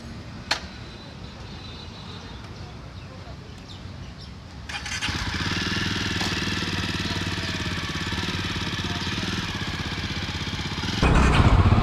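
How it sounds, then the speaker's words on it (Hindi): A Jawa 42 Bobber motorcycle engine started up and idling, a quiet lead-in followed by a steady, loud thumping idle that holds evenly and rises slightly near the end. "तो जैसे कि अभी मैंने बाइक चालू कर दी है"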